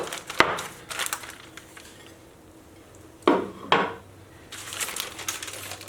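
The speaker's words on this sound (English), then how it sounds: "And now I will flip it onto my plate right side up." An Instant Pot cheesecake is flipped out of its insert pan onto a plate: a sharp clank, light rattling, then two firm knocks of metal on the plate and some soft rustling near the end.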